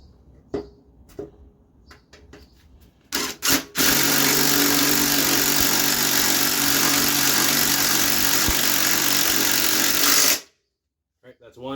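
An impact wrench drives bolts while a lawn mower engine is swapped: a few clicks and handling knocks, then a sustained loud whirring rattle lasting about six seconds that stops abruptly, close by.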